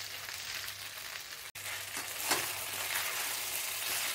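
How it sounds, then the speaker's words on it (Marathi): Leftover cooked rice with browned onion stirred and fried in a pan for masala rice, giving a steady close sizzle with occasional scraping stir noises and one brief drop-out. "आता आपण त्यात भात घालू। याला व्यवस्थित हलवून घेऊ।"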